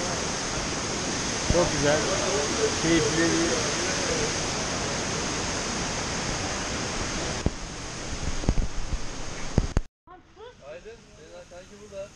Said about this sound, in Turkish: Ulukaya Şelalesi.